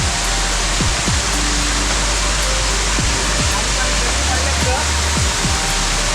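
Steady, loud roar of a waterfall at Ranjanpada village near Alibag fills the scene without a break, with low thumps and rumbles underneath.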